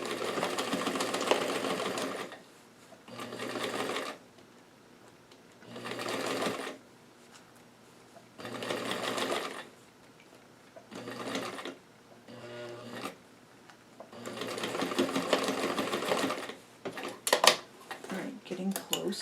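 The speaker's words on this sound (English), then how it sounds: "And I'm doing about a 1/4 inch seam right here." A sewing machine runs a quarter-inch seam on a doll dress in repeated bursts of rapid stitching with short pauses between, close up, with a person speaking softly at times.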